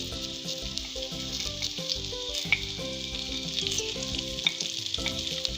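Garlic and onion fry in hot oil with a steady, crackling sizzle at close range, broken by the stir of a spoon and set against a faint musical background.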